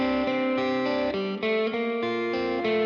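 An electric guitar plays a higher arpeggiated part through a Vox AC10 amplifier with a reverb pedal, clear ringing notes changing every fraction of a second with a spacious tail, alone and up close.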